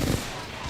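A single burst of video-game gunfire thumps in at the start and then fades into a dense, rumbling low wash.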